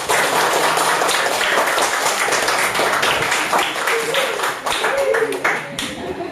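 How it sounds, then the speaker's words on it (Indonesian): Students clap in a classroom, a loud, busy patter of many hands sustained throughout, with voices mixed in under the clapping. "beri tepuk tangan untuk Takul dengan Siti"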